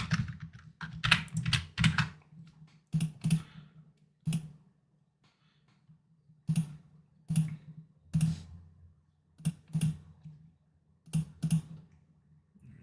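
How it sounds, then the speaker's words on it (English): Someone types on a computer keyboard nearby, with quick clusters of key clicks, pauses and then further bursts of tapping, heard on its own with no talk. "As I go back to typing my long paragraph story."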